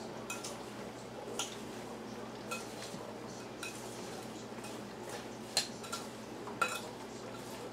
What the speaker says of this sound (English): So you stir these until they're all coated, all of it's mixed up.